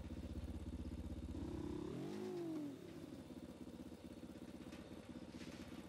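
A motorcycle ridden in Ghost Recon Wildlands, a steady droning engine that swells with a brief rev and pitch sweep around the middle before settling back to a constant hum, with no talk.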